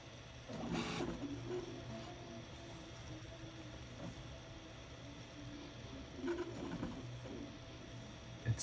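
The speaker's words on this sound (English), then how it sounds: "Printing the first layer right now." A Prusa Mini+ 3D printer lays down its first layer, giving off a faint, steady motor whine with soft tonal hums and occasional brief clicks and scrapes in a quiet room.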